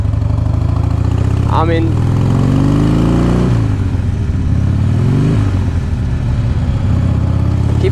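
A 2005 Harley Davidson Heritage Softail rumbles loudly and close with a steady low V-twin throb, rising and settling as the throttle changes, while someone talks over it.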